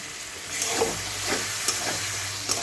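A paste of cashew, melon seeds and poppy seeds sizzles in frying masala with a steady hiss, and a few light stirring scrapes come through.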